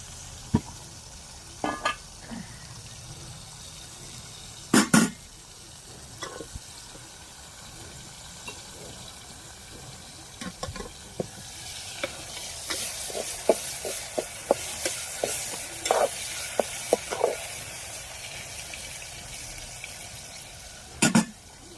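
Chopped onion goes into hot oil in a pan and sizzles at a fairly faint level, with occasional sharp clicks and clatters of a utensil that thicken into a denser frying crackle toward the end.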